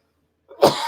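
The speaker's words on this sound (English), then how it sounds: "got to clear my throat here" A single short, close throat clearing that starts after a moment of silence, a rough burst that trails off into a brief rasp.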